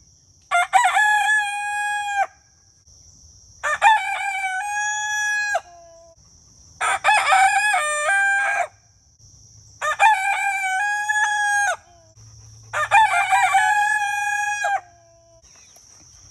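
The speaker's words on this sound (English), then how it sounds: "You kind of over all these roosters yet?" Several roosters crow in turn, five long drawn-out calls separated by short pauses, loud and close, with faint clucking and background birds between.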